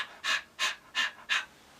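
Four rhythmic panting breaths, evenly spaced and close, each a short breathy burst, with no other sound around them; likely a human voice imitating a panting sound.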